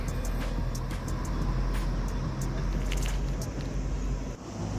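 Vehicles move along the NH66 highway near a flyover in Kasaragod, a continuous road rumble with passing-traffic noise beneath a voice.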